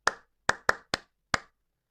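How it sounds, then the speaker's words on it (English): Five sharp, close handclaps ring out one by one at uneven intervals against near silence during a speech about Nigerian and Igbo history. "Clap for yourself."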